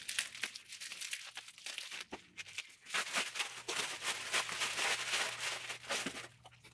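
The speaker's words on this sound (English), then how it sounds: "let me unwrap this" Close, continuous crinkling and tearing as a package holding a Ghostface bowling ball is unwrapped, steady rustling plastic and paper for several seconds with no speech.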